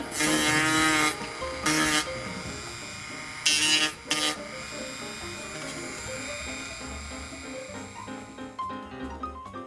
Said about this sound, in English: I'll sand that just a little bit smooth